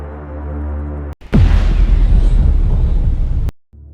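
A nuclear bomb explosion bursts in as a sudden, massive boom that swells into a long, loud rumbling roar before cutting off abruptly, after a steady low hum that opens the clip.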